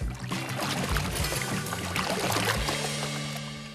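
Oars splash and dip as a woman rows a narrow boat across a lake, giving close watery sloshes and trickles with a faint low tonal hum underneath, no talking.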